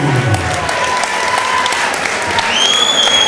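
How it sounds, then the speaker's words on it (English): Crowd applause and some cheering greet a fighter's introduction at a welterweight MMA event, a steady, dense clapping that holds throughout with a few higher whistles near the end. "put your hands together for Peme."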